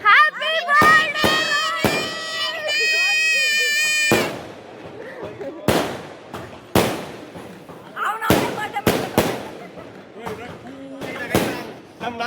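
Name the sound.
firecrackers bursting at a birthday celebration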